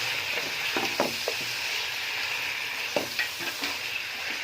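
Chicken sizzles and fries steadily in a pan alongside a small chopped tomato, with a few spoon scrapes and stirring clinks breaking through the continuous close hiss.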